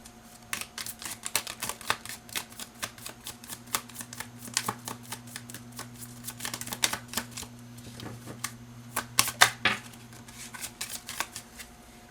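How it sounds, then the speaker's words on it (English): Tarot cards drawn from a deck and handled at close range, giving a steady run of crisp papery clicks and snaps over a faint low hum, with no talking. "Let me get another card for Nine of Wands."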